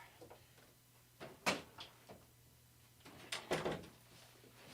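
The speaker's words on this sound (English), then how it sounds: "All right, let me close this door." A door is pushed shut indoors, with a few soft knocks and thuds followed by a firmer latch sound, all quiet and close, against a faint background hum.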